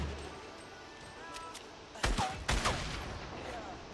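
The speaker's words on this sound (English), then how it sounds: "Some shooting." Gunfire in the Fortnite battle royale: a quiet stretch with faint game ambience, then two loud, close bursts of shots around the two-second mark, each followed by a short ringing tail.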